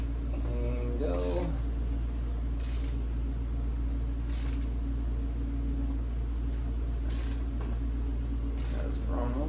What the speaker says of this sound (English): Put a ratchet on the crank and go.